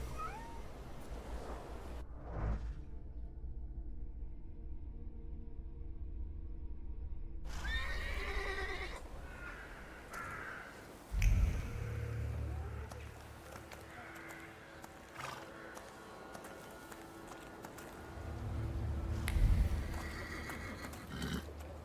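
In The Thaumaturge video game, a horse gives loud whinnies and snorts at two points amid ambient game sound, with scattered hoof and movement noises between them.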